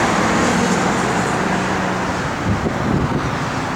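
Close, steady rumble of a 1970 Chevrolet Chevelle SS with a brand-new LS5 454 V8 and dual exhaust, idling evenly with slight wind buffeting and no voices.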